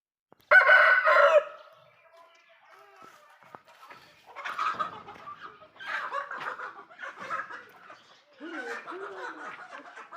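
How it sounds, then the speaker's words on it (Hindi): An Aseel rooster lets out one loud, close crow right at the start, followed by quieter clucking and murmuring sounds in short bursts. "खूबसूरत मुर्गा है।"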